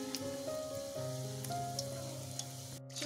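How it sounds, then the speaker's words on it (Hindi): Chicken spring rolls deep frying in hot cooking oil give a soft, steady crackling sizzle, faint and even throughout with a brief tonal hum beneath. "अब मैं इसमें रोल्स को डिप फ्राई करूँगी, तो मैं रोल्स ऐड करती जाती हूँ"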